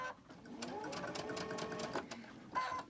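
A sewing machine chain-stitches quilt fabric, running with a steady, close, rapid mechanical whir and clatter for a few seconds with a brief pause near the end before it starts up again.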